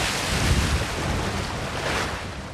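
Large Mediterranean swells surge off Malta beside a dive boat, a steady, loud broadband wash of surf mixed with gusting wind buffeting the microphone, continuous without a clear break.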